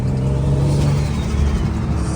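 An Infiniti G37 fitted with a single turbo kit idles and revs in a steady, loud close-up drone with a low rumble and a faint turbo whir, no talking.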